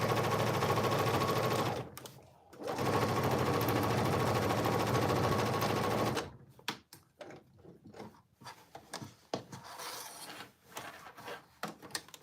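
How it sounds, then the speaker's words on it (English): A sewing machine runs in two steady bursts, stitching a pocket down near a folded edge on cargo pants, with a brief pause between them, followed by quieter handling and shuffling of the fabric. "very close to that folded edge, I'm going to sew the pocket down."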